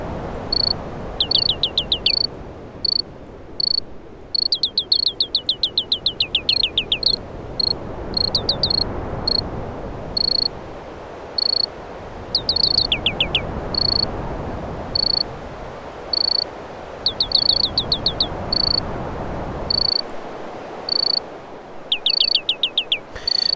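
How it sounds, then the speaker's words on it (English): A synthesized ambience from a generator node plays crickets and birds: bursts of high repeated chirps and trills recur every few seconds over a soft swelling, wave-like wash of background noise. "This is a generator of crickets and birds and waves and wind."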